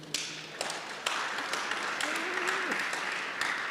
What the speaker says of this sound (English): Wow, that deserves an applause.